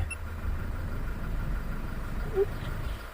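A car engine idles steadily with a low, even rumble, close and moderately loud, with a faint brief squeak near the end.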